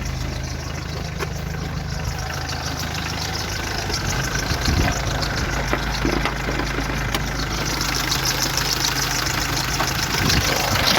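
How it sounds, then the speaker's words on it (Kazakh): A Volkswagen Vento's diesel engine idles steadily with a low, rough, continuous rumble and faint knocking, close and unbroken throughout with no talk. "Қалай жұмыс ет дизель. Трактордың дауысы ғой."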